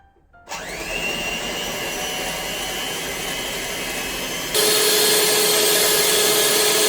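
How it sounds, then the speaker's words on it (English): Electric mixer whisking a batter for beignets soufflé, whirring up sharply and then running steadily, with a jump to a louder, higher speed partway through, close and alone with no talk. "we're going to mix this up on high until it's double in size and pale"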